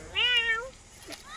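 A person imitates a cat with a single drawn-out meow, close and clear, followed by a brief quieter vocal sound.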